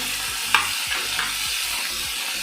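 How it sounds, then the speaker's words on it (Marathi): Tomatoes and fresh coriander fry in a pan with a steady loud sizzle, while a spoon scrapes and stirs in a regular rhythm about every third of a second, close and with no voices. "आमकां टमाट सुद्दां मऊ जावसर व्हरसूं जाय"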